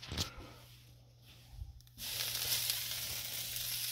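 Butter hits a hot frying pan, a soft background hum giving way after two seconds to a sudden, steady close sizzle that holds loudly to the end.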